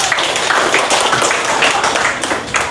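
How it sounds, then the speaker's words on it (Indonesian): Classroom students clapping hands together, a dense burst of claps filling the short span with no talk over it. "Oke, tepuk tangan dulu."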